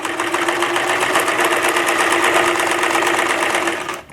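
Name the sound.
sewing machine stitching silk ruffle onto elastic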